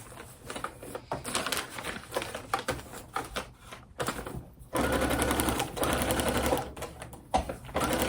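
A sewing machine set to a 1.6 stitch length stitches a seam on braid paper, with a rapid, steady mechanical chatter that runs in bursts, briefly stops, then resumes louder and sustained.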